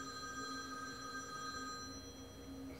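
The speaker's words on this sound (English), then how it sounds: "it's got to be the 300th phone call today" A telephone bell rings steadily indoors, a faint sustained electronic tone with even pulses over a low background hum, no voices.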